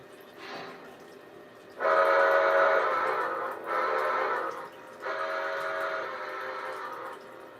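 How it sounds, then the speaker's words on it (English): A TMCC-style model steam train whistle gives a faint short toot, then three long, loud, steady blasts in close succession, heard alone and near. "It almost sounds like a TMCC whistle to me."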